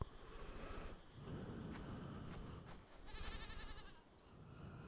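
Sheep bleat repeatedly in the video game Die Young, several calls close and fairly loud over a steady noisy background with no talking.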